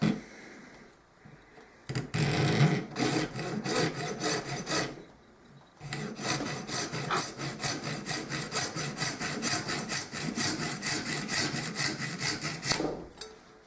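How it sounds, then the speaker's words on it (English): A little mini hacksaw cuts through a bone guitar saddle blank in quick, regular back-and-forth strokes, close and fairly loud, with short pauses between bursts. "now I'm going to cut it with this hacksaw right here. It's a little mini hacksaw."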